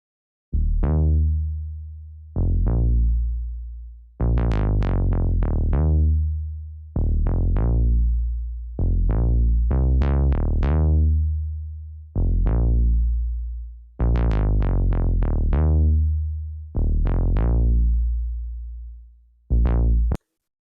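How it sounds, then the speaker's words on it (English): Bouncy synth bass line played on an Arturia Minilab MK2 keyboard for a smooth West Coast sample: deep, rounded notes in short rhythmic phrases with brief gaps between them, loud and alone. "this bass line that I came up with, which sounds like this."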